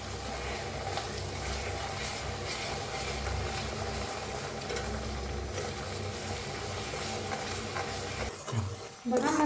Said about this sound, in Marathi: हिंग, कांदा बारीक करून घेतलेला आणि घालून घेऊया याच्यात। आता छान भाजून घेऊया।